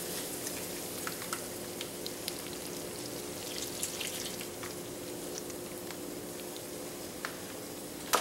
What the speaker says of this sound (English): We're going to stir it.